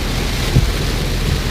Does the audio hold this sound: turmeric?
no